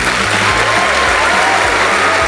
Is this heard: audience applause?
yes